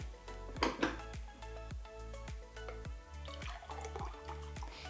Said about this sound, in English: let's pour this into a glass